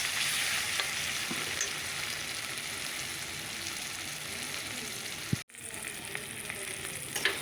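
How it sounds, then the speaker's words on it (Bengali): Spice paste (masala) fries in a pan with a steady, dense sizzle that runs throughout, then a brief sharp break and clatter near the end as the cooking continues. "মশলাটা একটু ভাজা ভাজা করে নিই তারপর ঝোল দিয়ে দেবো"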